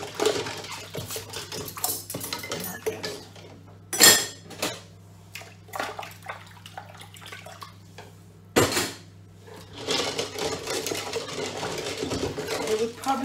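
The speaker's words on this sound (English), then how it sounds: "Lots of spoons and things in here to wash." Spoons and utensils clatter and clink in a sink while being washed after baking, with intermittent sharp knocks, running water and someone talking over the washing.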